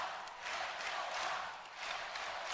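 A crowd at a college wrestling match between Iowa and Nebraska raises a rhythmic chant, swelling and dipping in waves, heard faintly at a distance.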